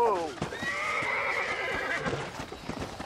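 A horse in the Red Dead Redemption video game whinnies loudly in a long descending neigh, with hoof clip-clops and voices talking underneath throughout.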